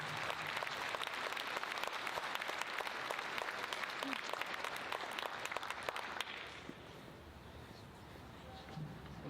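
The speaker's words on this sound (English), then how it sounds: "a rousing round of applause for Lee Thomas" A rousing round of applause from the audience at a film-industry event greets the Deputy Commissioner of the Georgia Film Commission: dense, steady clapping for about six seconds that then thins out and fades.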